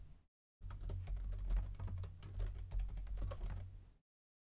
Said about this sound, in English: Okay, well, let's keep typing.